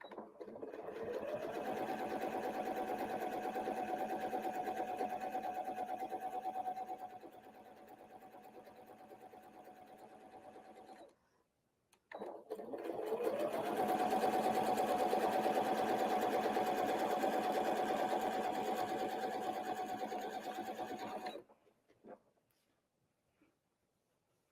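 A sewing machine runs steadily while stitching free motion quilted curves with rulers, in two long humming bursts separated by a brief pause, close and fairly quiet with no talking.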